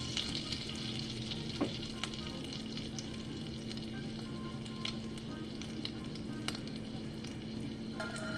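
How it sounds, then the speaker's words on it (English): Salmon croquettes fry in hot oil in a skillet, giving a steady, close sizzle with scattered crackles and small pops throughout, no voices. "And it's frying."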